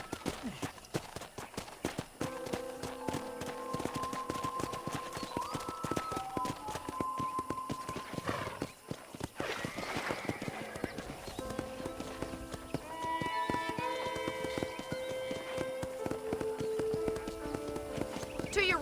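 A horse ridden through the Red Dead Redemption video game, hooves clip-clopping in a steady, brisk rhythm for a long stretch, with snorts and whinnies mixed in and conversation running over the hoofbeats.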